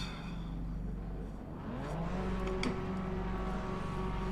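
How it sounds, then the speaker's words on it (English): BMW M2 race car engines at Daytona in the iRacing video game, idling then rising into a steady revving drone with a clear tonal whine, moderately loud and unaccompanied by talk. "I hear the engines."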